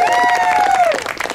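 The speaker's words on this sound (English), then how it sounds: "let's have a round of applause for the fire department" A crowd at an outdoor bar and grill claps and cheers for the fire department, a brief burst of applause mixed with whistling and voices.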